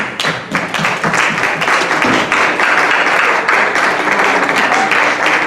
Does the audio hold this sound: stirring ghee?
no